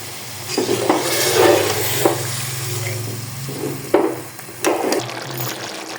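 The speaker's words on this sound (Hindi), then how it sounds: "टमाटर और आलूओं की हमने अच्छी तरह भुनाई करनी है" Tomatoes and potatoes sizzle in a pot with a little added water for potato rice, a steady close frying hiss broken by several scraping stirs of a spoon against the pan.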